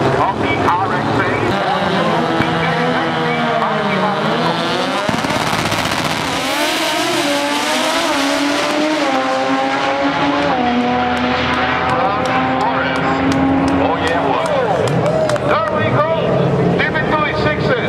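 Mazda RX-8 race car at a drag strip, its engine screaming steadily through rising and falling revs for the whole stretch, loud and continuous, with an announcer's voice riding over the roar.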